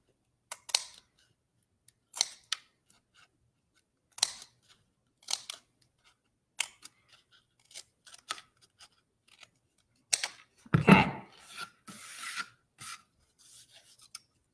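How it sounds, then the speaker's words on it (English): Scissors cutting triangles out of cardboard toilet paper tubes for a children's card-stamping craft, a sequence of short close snips and rasps spaced a second or two apart, with a longer rustling scrape near the end and no talking. "I am just cutting triangles out, and I'm going to show you when I'm done."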